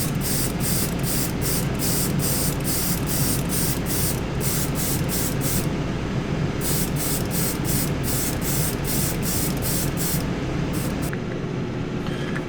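Decal solution sprayed over model-kit decals in a series of short, close hissing bursts with brief pauses between, steady and loud against a constant low background.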